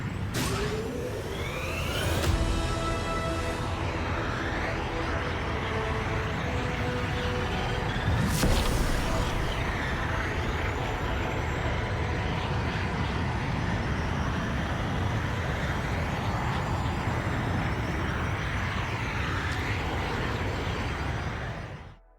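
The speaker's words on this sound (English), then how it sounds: "Spooling the hyperdrive. Let's punch it." A starship's hyperdrive jump in the Star Wars Outlaws video game gives a loud, sustained mechanical roar with a sharp surge near the start and another burst midway, then rumbles steadily before cutting off at the end.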